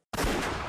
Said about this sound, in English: The sudden sound of a gunshot shook me out of my half-asleep trance.